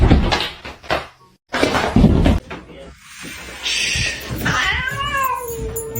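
Cats fighting, with yowling caterwauls, hisses and rising meows between scuffling bursts and short pauses, close and loud, while a person talks at points.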